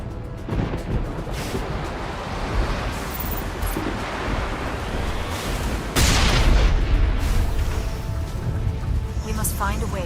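Artillery fire in Mass Effect Legendary Edition, with heavy booms and rumbling blasts over a constant roaring, wind-like wash and a strong impact partway through.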